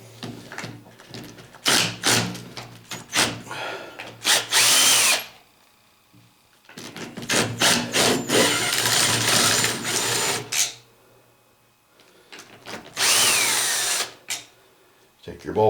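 A power tool with a 15 socket spins out the red-Loctited bolts of a Tremec T5 transmission in several loud, close bursts of whirring and ratcheting, with brief quiet gaps between them.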